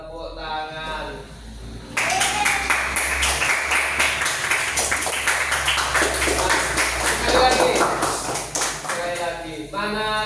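Schoolchildren in a class clapping hands together, a fast, steady patter of many small claps lasting several seconds, with a teacher's voice briefly before and after.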